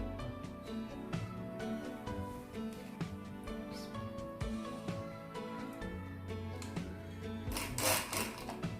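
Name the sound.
sewing machine stitching a gamis dress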